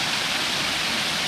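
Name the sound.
waterfall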